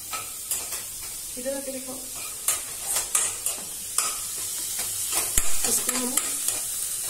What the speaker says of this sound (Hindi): गोल्डन होने तक स्टर करेंगे।